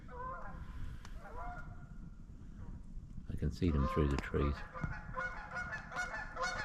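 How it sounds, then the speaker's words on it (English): Canada geese honk repeatedly overhead, a burst of loud calls after a quieter stretch, with a person speaking near the start. "There's geese around."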